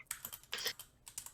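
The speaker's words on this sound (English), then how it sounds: "aggressively typing" Aggressive typing on a computer keyboard: quick bursts of sharp, clacking keystrokes in irregular clusters with brief pauses between, close and fairly quiet, with no speech.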